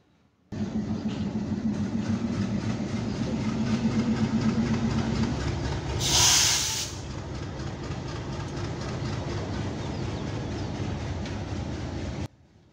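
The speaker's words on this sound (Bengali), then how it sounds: "দুই মিনিটের যাত্রা বিরতি শেষ করে সিরাজগঞ্জ এক্সপ্রেস ট্রেন তার যাত্রা শুরু করলো হাইটেক সিটির উদ্দেশ্যে" Sirajganj Express train at Mirzapur station, its engine rumbling loud and steady, with a brief sharp hissing burst midway before the heavy drone carries on and cuts off abruptly near the end.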